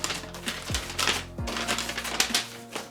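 Rustling, crinkling packaging and cardboard handling as a boxed Lockheed C-5M Super Galaxy model, large and heavy, is unwrapped, with scattered crackles and a couple of low thumps, close and moderately loud.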